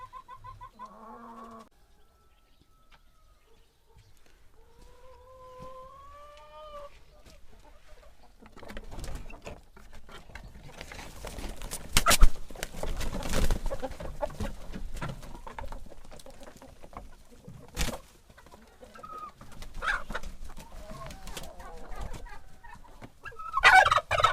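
Domestic chickens calling and clucking in a yard, with scattered bird calls and rustling; sounds build from sparse near calls to a busier, louder flock.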